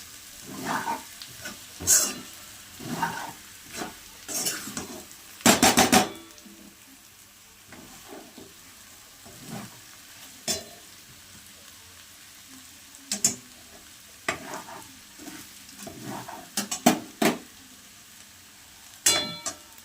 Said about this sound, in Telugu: వేసుకుని అల్లం వెల్లుల్లి పేస్ట్, ఆనియన్, టమాటా వీటిలో కొంచెం సేపు మగ్గనిచ్చుకోవాలండి